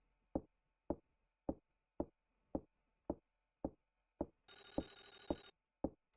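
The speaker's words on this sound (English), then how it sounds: "I hear that phone ringing" A sharp rhythmic knocking repeats about every half second, with a brief electronic telephone ring buzzing in near the end, in a horror video game.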